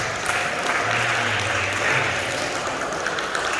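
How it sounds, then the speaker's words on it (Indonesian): A roomful of people at an awareness session claps together in a brief, continuous burst of applause, with a low voice faintly underneath. "Tepuk tangan untuk kita semua kalau nggak ada"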